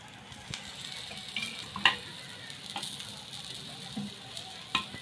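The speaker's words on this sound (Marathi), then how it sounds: "छान असं भाजू द्यायचं आहे आपल्याला आणि थोडं थोडं तेल सोडायचं" Leftover bread pieces frying in oil in a pan, a faint, steady sizzle with occasional small pops and clicks, quiet and continuous.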